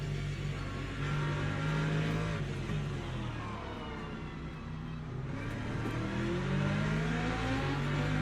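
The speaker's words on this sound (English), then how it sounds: "Right, here come the hypercars though." Hypercar race cars in the Le Mans Ultimate racing game roar past, their engines revving and shifting pitch as they rise and fall, loud and continuous throughout.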